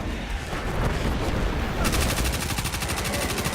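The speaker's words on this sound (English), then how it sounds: "The 900 RPM, you know, kinetic SMGs are what I like to use." A 900 RPM kinetic submachine gun fires in Destiny 2, a loud, unbroken stream of rapid shots that tightens into a dense, steady automatic rattle partway through.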